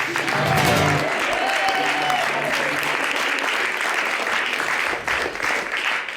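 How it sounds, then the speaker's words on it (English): Congregation at a Unitarian Universalist service applauding the music makers after a song, sustained clapping from many people with a brief sung or spoken tone near the start. "Another round of applause for the music makers"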